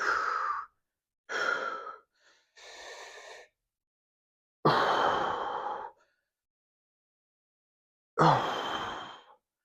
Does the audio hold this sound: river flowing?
no